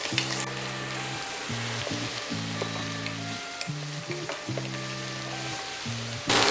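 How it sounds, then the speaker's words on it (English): Diced carrot, celery and white onion sauté in a pan with a steady, close sizzle that runs without a break. A low, humming tonal sound starts and stops in the background. "We're going to saute those off until nice and translucent."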